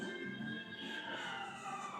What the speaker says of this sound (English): I don't know if that's an ambulance coming in readiness for the coronary I might be about to have, but there's sirens going on outside